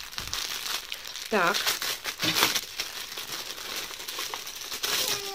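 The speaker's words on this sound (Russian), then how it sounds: "Сейчас я вскрою пакет." Crinkly plastic rustling as a Faberlic baking bag package is torn open, steady crackling throughout with a brief voice remark partway.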